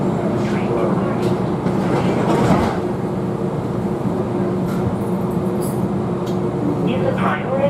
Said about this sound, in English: The doors are closing. Train doors.